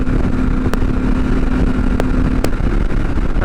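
A Triumph Scrambler 1200 XE motorcycle engine drones loud and steady while riding, with constant wind rush over it and a few brief clicks.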